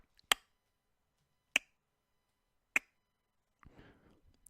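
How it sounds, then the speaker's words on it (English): Three slow, deliberate single claps spaced about a second apart, crisp and isolated against near silence, followed by a soft rustle. "Slow, dramatic clap."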